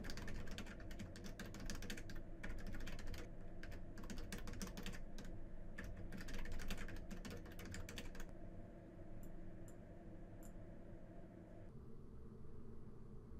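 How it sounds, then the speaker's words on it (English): Typing on a computer keyboard sounds as rapid, close clicking keystrokes in quick bursts over a steady hiss, then stops, leaving a few faint taps and low background noise. "and then type in your objectives."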